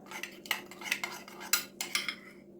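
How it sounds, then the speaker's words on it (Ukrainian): Transcarpathian-style fried potatoes with garlic are stirred in a pan, a metal utensil knocking and scraping against it in a series of irregular clinks and scrapes, close and fairly quiet, with no speech. "акуратно перемішаю всю картошку"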